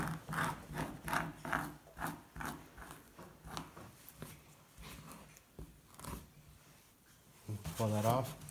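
A blade scrapes fat from a marten pelt during fleshing, producing a run of short rhythmic rasping strokes that grow sparser, followed by a brief voice at the end.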